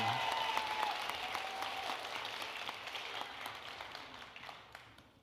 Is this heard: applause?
yes